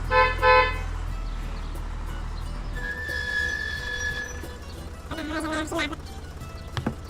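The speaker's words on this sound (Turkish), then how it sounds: "Damperli kamyon, kornaya basabilir miyim?" A cartoon dump truck in a Turkish-dubbed children's animation sounds its horn, a sustained bright toot held for over a second, framed by other short tonal cartoon effects and a low rumble at the start.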